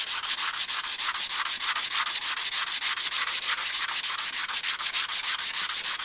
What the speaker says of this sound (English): What I like to do is put a sandpaper on a stick.